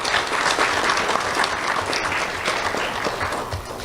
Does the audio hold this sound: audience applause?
yes